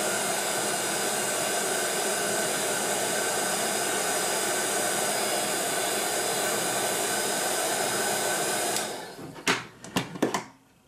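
Hair dryer blowing steadily on a paper flower craft, a loud continuous whoosh close by that stops near the end, followed by a few brief knocks and clatters.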